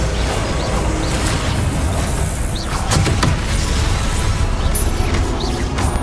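A Confringo fire blast spell erupts in Hogwarts Legacy combat, a loud burst buried in dense, continuous battle noise with rumbling low end and sharp transients.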